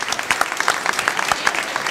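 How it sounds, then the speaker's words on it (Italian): An evening audience at a vocational music and singing festival applauds the choirs that performed, with brisk, dense clapping and scattered sharper claps, steady and close. "facciamo un applauso a tutti i cori che si sono esibiti questa sera"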